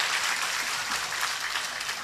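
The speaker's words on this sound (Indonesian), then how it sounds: "Tepuk tangan untuk ibu-ibu yang luar biasa." Steady, dense applause from an audience at an evening Islamic sermon, sustained evenly throughout without any speech.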